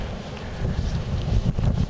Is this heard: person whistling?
no